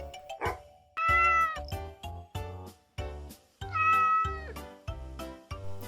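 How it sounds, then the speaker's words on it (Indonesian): A domestic cat meows repeatedly at close range, with a string of clear, tonal meows in an uneven rhythm, some longer and drawn out, with no talking. "Kucing, cat."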